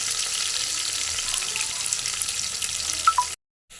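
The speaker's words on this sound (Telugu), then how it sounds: "కరివేపాకు, ఎర్రగడ్డ, కొంచెం వేగినాక చూద్దాం." Curry leaves and onion frying in a pan, a steady close sizzle with faint stirring scrapes that cuts off abruptly near the end.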